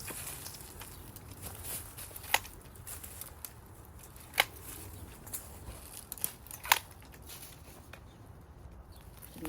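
Pruning shears snipping the prickly stems of a Knockout rose bush outdoors, a few sharp isolated clicks spaced a couple of seconds apart over quiet background rustling.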